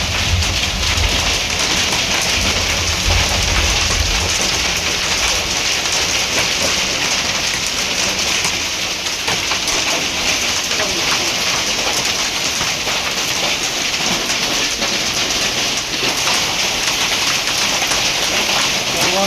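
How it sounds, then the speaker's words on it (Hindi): Heavy rain and hail pelt down in a dense, unbroken roar that stays loud throughout, in Daringbadi. "ଦେଖନ୍ତୁ କେମିତି ବର୍ଷା ପବନ ହେଉଛି"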